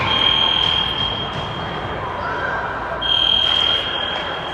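A fire alarm in an ice hockey arena sounds a steady, piercing high electronic tone that holds, dips briefly and returns, ringing over the low roar of the rink during a game.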